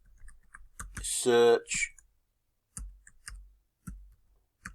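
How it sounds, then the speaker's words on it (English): Computer keyboard typing in Windows 10, a handful of sharp, evenly spaced key clicks close up, following a brief stretch of speech and then continuing alone. "in here we type in Bing"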